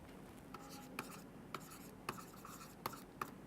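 Pen strokes on paper at a quiet desk as numbers are written by hand, a series of soft separate scratches spaced about half a second apart.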